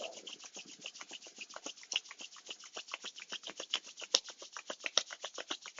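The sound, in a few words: rubbing hands together to warm them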